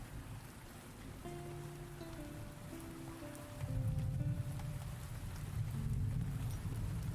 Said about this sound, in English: So the sounds of rain and storm sort of begin to peter out